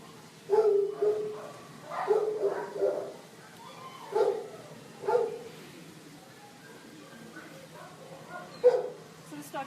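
A shelter dog with bad teeth and fleas whimpers and gives several short, close barks and yips in irregular bursts during a veterinary exam, with a low steady hum underneath.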